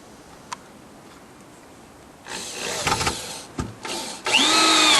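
A power drill drives screws into wood on a deck roof build, with bursts of whirring starting after a quiet stretch and rising to a loud sustained spin near the end.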